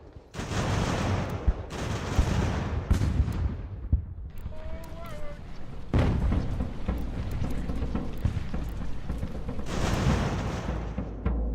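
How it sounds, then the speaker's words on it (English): Mortar blasts and musket volleys roll across an 18th-century battlefield in Ultimate General: American Revolution, heavy booming bursts recurring every few seconds over a continuous rumbling din, with a brief tonal game cue in the middle. "Our mortars are doing business."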